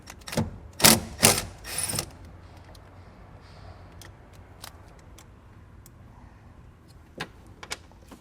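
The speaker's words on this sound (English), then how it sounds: "So now we're going to remove the nut with a 10mm socket." A ratchet with a 10mm socket removes a nut during a hitch receiver install on a 2015 BMW X5, giving a few loud clicking bursts up close, then quiet with scattered small clicks and taps.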